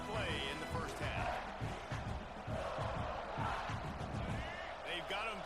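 Stadium crowd at a South Carolina college football game roars steadily, with whistles and shouts rising through, under continuous commentator-style speech.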